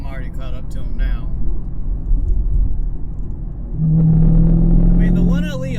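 A 2017 Chevrolet Camaro SS 1LE V8 drones steadily from inside the cabin while driving, then swells into a louder, deeper rumble as it accelerates, with someone talking over the start.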